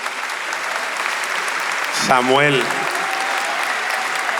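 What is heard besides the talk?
audience applause at a concert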